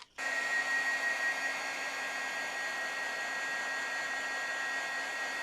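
A heat tool for embossing a card switches on and blows a steady, loud, close hot-air whoosh that holds evenly to the end.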